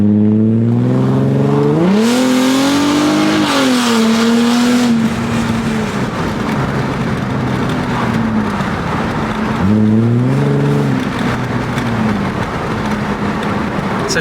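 25-year-old Mercedes W210 engine revs repeatedly while driving, loud and close, with rising and falling pitch sweeps as it accelerates and shifts, no talk.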